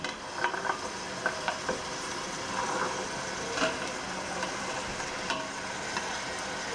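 Vegetables are stirred into rice frying in a pan for a vegetable pulao, with a steady sizzle and soft scraping stirs across the whole stretch.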